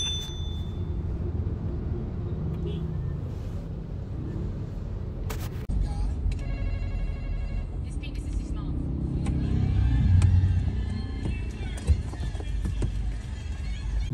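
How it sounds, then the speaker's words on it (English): Busy road traffic in Davao City during the Kadayawan Festival, a continuous mix of car engines and rumble with occasional revving, a sharp clatter near the middle and a brief thump toward the end, with people talking throughout. "Traffic."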